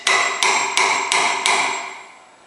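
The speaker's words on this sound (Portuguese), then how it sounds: "Uma madeira macia, ela vai aceitar facilmente a entrada do prego" Five quick, ringing hammer blows drive a nail into soft wood while making a tire planter for pitaya, each metallic strike evenly spaced and close, the last one fading out.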